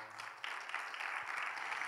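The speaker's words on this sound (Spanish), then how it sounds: "Denle un fuerte, fuerte aplauso al Señor, por favor" Steady crowd applause at a Bible seminar, a dense wash of clapping that swells slightly midway and keeps going, with no voices over it.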